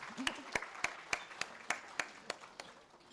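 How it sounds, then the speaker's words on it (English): Slow, evenly spaced claps ring out one at a time, sharp and fairly faint, about every third of a second. "A round of applause for everyone who showed up today."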